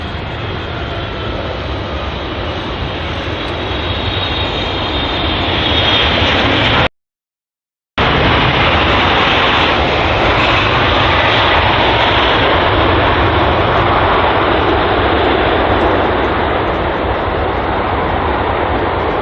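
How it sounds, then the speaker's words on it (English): A LATAM Airlines Boeing 777-300 arriving at London Heathrow, a loud, continuous broadband engine roar that holds steady and swells slightly, with a brief dropout partway through. "And here is the LATAM Airlines Boeing 777-300"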